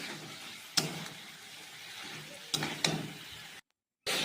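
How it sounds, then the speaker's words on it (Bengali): Chicken being slowly fried down in oil for Bengali chicken kosha sizzles softly and continuously, with a few sharp spatula scrapes against the pan and a brief cut to silence near the end. "দেখো কষানো হচ্ছে"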